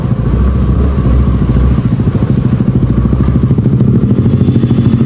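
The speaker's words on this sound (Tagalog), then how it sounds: "Ay motor na yan mayabang oh, sa rough road oh." A motorcycle rides over a rough road, its engine close and loud with a rapid pulsing chug and clattering thumps from the bumpy surface throughout.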